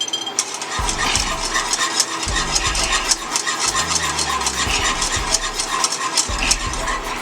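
A spoon stirs a thickening sweet and sour sauce in a pot, scraping the bottom in irregular bursts over a soft background sizzle, close and with no talking.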